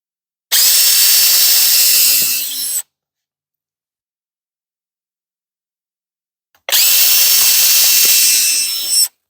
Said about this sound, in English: So let's drill a couple more holes.